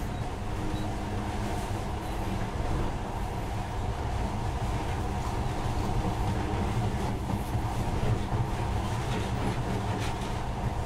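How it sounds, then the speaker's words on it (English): Monorail train riding along in a video game, a steady continuous rumble and rolling hum with no pauses, moderately loud and even throughout, no voices over it. "But now, this monorail seems magic, doesn't it?"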